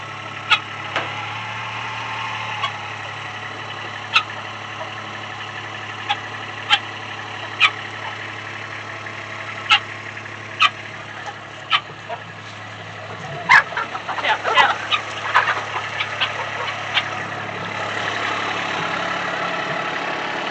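A vehicle engine idles in a steady low drone while pastured egg-laying hens are being moved, with a few clicks and knocks on top and faint talk partway through.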